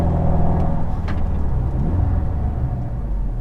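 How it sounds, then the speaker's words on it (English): A 2012-2018 VW GLI MK6 pulls forward on a back road with a steady, close engine rumble and road noise that rises gently as it picks up speed toward 35 mph, with no voices. "I'm going to bring the car up to 35 miles an hour, then hit the brakes"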